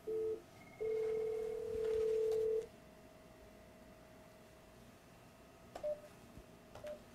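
An IP phone plays a short dial beep and then a sustained ringback tone while a call is placed, followed by quiet room tone and a couple of faint later beeps.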